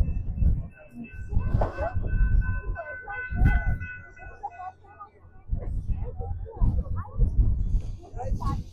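A Royal George scenic train in the Colorado mountains rumbles and rattles around an open-air, roofless car, with steady low rolling noise under continuous chatter from nearby passengers.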